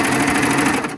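A sewing machine runs steadily for about a second while running off a thread chain, giving a fast, even mechanical whirr and patter close by before it stops abruptly.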